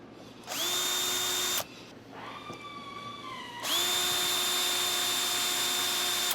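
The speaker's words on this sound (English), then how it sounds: "I'm just going to use a unibit, and of course it's nice to have a piece of wood here to drill through." A power drill fitted with a unibit (step drill bit) bores through a piece of wood, its motor whining loud and steady in two bursts, pitch dipping briefly in between as the bit loads up, with no talk.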